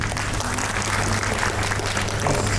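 Audience applause fills a conference keynote hall, a steady dense wash of clapping that holds at an even level from start to finish with no voices over it.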